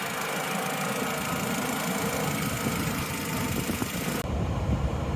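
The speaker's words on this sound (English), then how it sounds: "We've been idling for a good 10-15 minutes." An R50 Mini Cooper engine idles after running for some time, a steady, loud, close mechanical drone with a fine rattling texture that continues unbroken throughout while the upper hiss briefly thins near the end.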